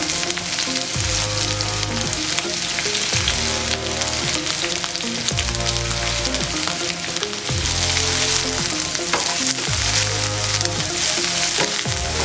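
Onions go into hot oil with browned garlic and ginger for an eggplant roast, giving a loud, continuous crackling sizzle that holds steady throughout beneath background music.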